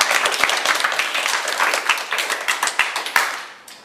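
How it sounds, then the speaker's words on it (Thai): Children clap together in a primary school classroom, a burst of quick, uneven handclaps that thins out into scattered claps and fades over about four seconds. "ปรบมือหน่อย"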